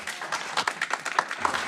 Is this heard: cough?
no